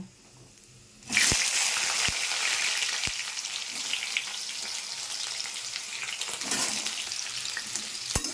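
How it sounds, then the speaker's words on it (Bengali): Vegetables sizzle and fry steadily in hot oil seasoned with dried red chilli and radhuni, a loud continuous crackle that bursts in as they hit the pan, with a few sharp ticks from stirring. "সবজিটা বেশ একটু লাল লাল করে ভেজে নেবো"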